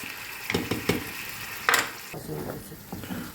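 Tomato paste sauce thinned with manti broth and stirred in a pan, giving a soft sizzle with light scraping and clinks of a utensil against the pan, under a quiet voice.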